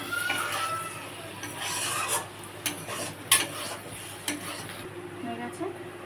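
A spoon scrapes and rasps around a pan as taro stolons cooked with shrimp get a final stir with raw mustard oil, irregular strokes with soft clinks and a faint sizzle.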